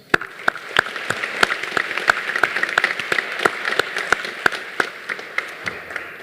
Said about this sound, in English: I'd like to give one more round of applause for all of our sponsors